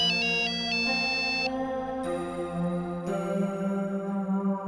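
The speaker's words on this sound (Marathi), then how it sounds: "बॉसचा फोन आहे." A phone ringtone plays a repeating electronic melody, loud and unbroken for several seconds.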